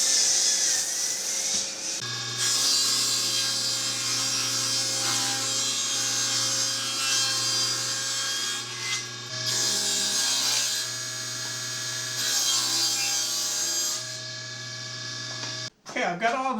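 A saw rips strips from a 2 by 10 wood board, a loud sustained whine with broadband cutting noise through several passes separated by short pauses, cutting off abruptly near the end.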